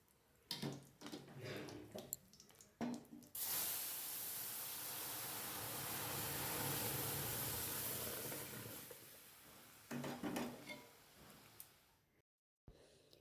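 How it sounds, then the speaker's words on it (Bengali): Lentils poured into hot tempered oil in a home kitchen sizzle in a loud, sustained hiss lasting several seconds, framed by brief clattering of cookware before and after. "এবার ডালটা এর মধ্যে ঢেলে দেবো"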